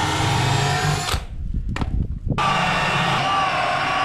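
A power drill fitted with a new, sharp bit bores holes for carriage bolts, a loud continuous whine that cuts out for about a second mid-clip with clunks and rattles before resuming.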